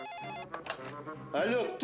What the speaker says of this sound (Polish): Następnego dnia odebrał dziwny telefon.